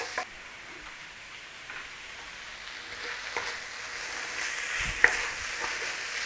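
A corned beef and cabbage filling sautés in a pan with a soft, steady sizzle and occasional light stirring knocks.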